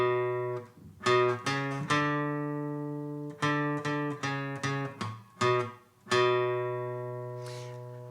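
Guitar playing a riff, a bright distorted tone picking the repeated note pattern twice with a muted note in the rhythm, close and clear, no talking.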